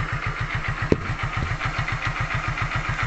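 A Hero Glamour motorcycle engine idles steadily up close after a new cylinder head and piston rings were fitted, its low rhythmic chugging continuous throughout, with one brief sharp click partway through.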